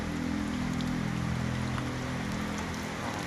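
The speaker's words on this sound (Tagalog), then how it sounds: "Nabot na ako ng ulan. Uulan na." Steady rain falling outdoors, a dense, even patter throughout with a low hum running underneath and no voices.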